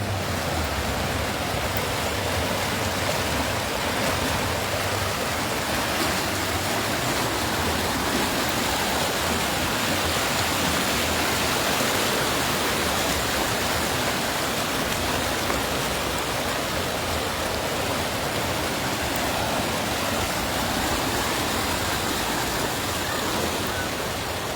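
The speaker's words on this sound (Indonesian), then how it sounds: "semua air yang meluap jadi menghantam badan jalan" Floodwater overflowing full roadside drains and rushing across a road in Bakbara, North Sumatra, during rain; a loud, steady broadband roar of rushing water runs unbroken throughout with no voices.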